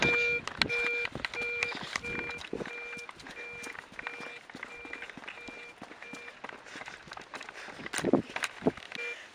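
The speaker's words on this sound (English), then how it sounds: "There's an alarm going off." A house alarm sounds as a steady series of evenly spaced two-tone electronic beeps for the whole stretch, fairly distant, mixed with rustling footsteps and movement outdoors as rain begins.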